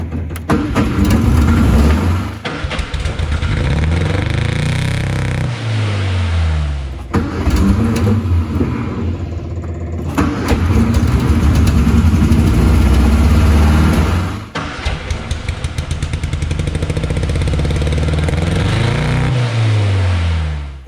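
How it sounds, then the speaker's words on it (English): A 1962 Austin Healey Sprite Mark II being started for the first time, with several loud cranking attempts broken by short pauses before the engine catches and runs roughly at a close, steady idle. "let's turn the ignition on, give it a crank, and see what happens"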